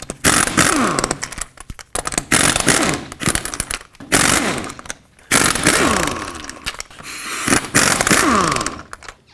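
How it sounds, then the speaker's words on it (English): An impact wrench spins Ford F-150 wheel lug nuts off with a 21mm socket in loud, close, buzzing bursts with short pauses between them, several nuts in a row and no talking. "take off all 5 of your lug nuts with a 21mm socket"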